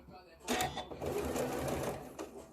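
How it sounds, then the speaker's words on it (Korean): Sewing machine stitching fabric for a quilted bow tie pattern, a quick whirring run of needle strokes that starts sharply and continues steadily, with a voice speaking under it. "이렇게 이 상태에서 바느질을 하시는 겁니다"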